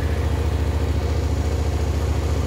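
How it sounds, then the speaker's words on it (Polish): A cold motorcycle engine idles steadily at around 2000 rpm, a fast, even rhythm, close and fairly loud, with a constant low throb and no voices. "w momencie, gdy uruchomię motocykl i on jest zimny"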